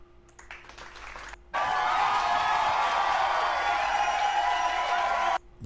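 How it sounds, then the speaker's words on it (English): Crowd cheering swells abruptly into a loud, sustained roar of many voices with applause and whoops, holding steady for several seconds before cutting off; a few scattered claps and voices precede the surge. "Okay, so that second one, crowd cheer."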